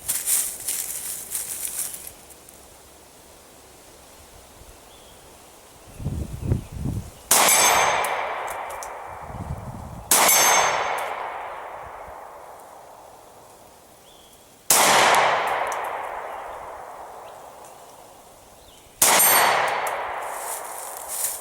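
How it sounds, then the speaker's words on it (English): Four sharp, loud shots from a Gen 4 Glock 20 10mm pistol ring out across an open outdoor range, spaced a few seconds apart, each trailing off in a long echoing decay, with some faint rustling before the first shot. "we're going to try to do a little bit of long distance shooting with the Glock 20"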